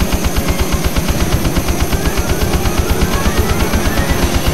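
An F-16's cannon fires in the PS1 video game Eagle One: Harrier Attack as a loud, rapid, evenly spaced burst of heavy shots that continues without a break, with a steady engine-like drone underneath.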